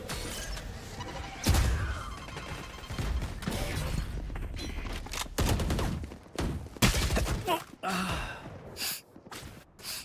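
Gunfire and a grenade blast in a competitive Valorant esports match, with bursts of shots and a sharp explosion scattered through a busy, continuous game mix.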